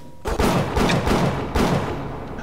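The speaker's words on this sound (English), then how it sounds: "Dang it, stop shooting at me." Gunfire in the video game Bioshock comes as several loud, heavy bursts in quick succession, booming close up with little pause between shots.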